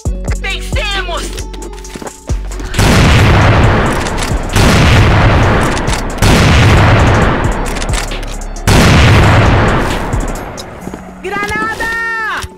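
Loud grenade explosions and bursts of gunfire crash repeatedly in a competitive shooter video game, several heavy blasts in succession, with voices talking before and after.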